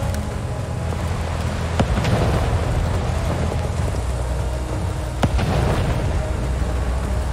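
Two sharp grenade blasts in a video game, each a sudden loud burst over a steady rumbling, rain-like background, spaced a few seconds apart.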